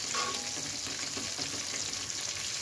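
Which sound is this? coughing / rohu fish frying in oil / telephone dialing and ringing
rohu fish frying in oil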